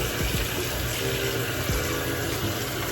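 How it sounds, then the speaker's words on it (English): Running tap water during a skincare routine as cool water is splashed onto the face, a steady close rush with a few soft splashes and no talking. "I'm gonna do one more splash of cool water."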